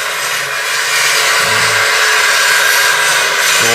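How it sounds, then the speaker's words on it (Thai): A power tool cuts through wood during a door or window installation, giving a loud, steady, grinding whine that runs unbroken for the whole stretch with no voices. "ตัวเสียงดังเด้อพี่น้องเป็นตัดเนาะ"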